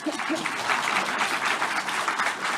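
A crowd at a Buddhist sutra lecture claps together in a steady, close burst of applause, many hands at once sustaining a bright, even patter with no pause throughout.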